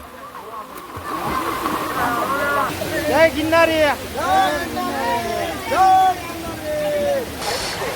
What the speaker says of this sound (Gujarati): તમે જોઈ શકો છો પહાડમાંથી પાણી આવે છે બરફ જેવું ઠંડુ પાણી